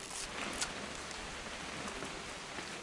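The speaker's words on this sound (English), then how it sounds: "It's gonna rain the whole weekend, isn't it?" Steady video game rain hisses throughout, an even wash of drops with no other distinct sounds.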